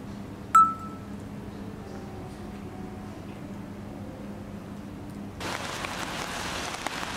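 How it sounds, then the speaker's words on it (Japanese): Steady rain pattering on an umbrella on a rainy day out in Hachioji, a soft wash that swells noticeably louder and brighter toward the end, with a single short beep near the start. "雨が傘に当たる音好きなんです"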